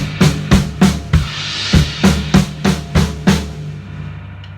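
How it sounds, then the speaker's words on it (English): Tom and snare strokes from a drum part land close and dry in an even rhythm, about ten punchy hits, before a short trailing ring fades out. "You can hear me getting louder through those tom and snare hits as we build into the instrumental"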